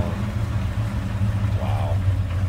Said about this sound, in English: We got a 1929 Packard chugging along, right along.